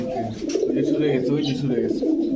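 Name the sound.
pigeons cooing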